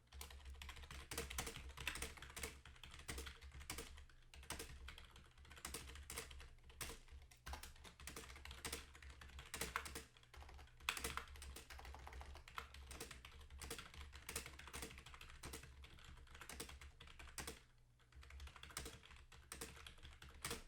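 Fast, continuous typing on a computer keyboard, close and quiet, with rapid irregular key clicks and a few brief pauses over a low steady hum.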